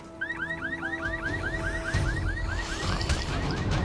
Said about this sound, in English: I'll jump on the car for the alarm